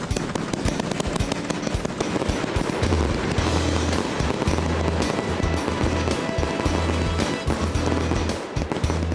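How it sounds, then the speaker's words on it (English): A large fireworks display goes off in a dense, continuous barrage of loud bursts and crackles, with deep booming thumps repeating underneath for the whole stretch and no pause between volleys. "This firework display is so huge, it wouldn't look out of place above an active war zone."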